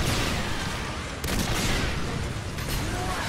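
Gunfire in Earth Defense Force 4.1 forms a dense, loud barrage of shots and blasts, a continuous wall of fire with a sharp burst around the middle.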